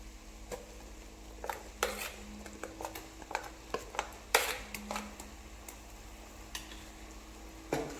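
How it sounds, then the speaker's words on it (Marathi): A spoon stirring and scraping masala paste in a pan for Marathi crab curry: scattered light taps and clinks against the metal, irregular and fairly close, over a faint steady hum with no talking. "आणि मसाला छान असा मिक्स करून घ्यायचा आहे"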